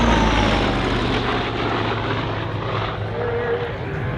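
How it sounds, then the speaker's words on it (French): Loud, continuous roar of a vintage FG-1D Corsair fighter's piston engine and propeller at an air show, a broad rumbling drone heard close and steady throughout the clip. "Et avec le rugissement de ce moteur"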